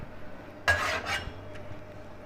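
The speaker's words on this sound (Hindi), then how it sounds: "अब इसमें इसकी थोड़ी सी भुनाई करेंगे।" A spoon scrapes and stirs beef masala in a karahi, two quick close scraping strokes over a faint background hum.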